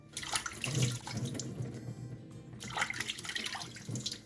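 Sardines are rinsed under running water from a tap, with a steady, close splashing and trickling stream and brief changes as the fish are handled.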